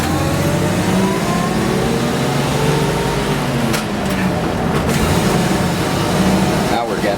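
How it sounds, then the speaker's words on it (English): A 1966 Toyota FJ40 Land Cruiser's old engine whirs and winds steadily from inside the cab while driving, a continuous loud mechanical drone with someone talking over it. "It's got that nice, whirring, winding machinery sound like an old Japanese farm tractor that I find appealing."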